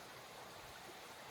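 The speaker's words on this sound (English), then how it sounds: "So nice little creek, good fresh water." A small creek flowing near a grassy campsite along the Superior Hiking Trail, a soft, steady rushing and trickling of water with no voices.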